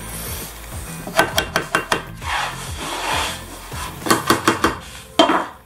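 Wooden wedges tapped and knocked into place under a shower bench seat, giving two quick bursts of sharp, close wooden clicks and knocks with rubbing scrapes in between.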